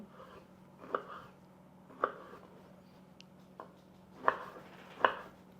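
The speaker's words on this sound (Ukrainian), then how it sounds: "наріжемо кабачок невеликим кубіком" Knife chopping zucchini on a board: a handful of separate, sharp thuds spaced about a second apart, close by, with a low steady hum underneath.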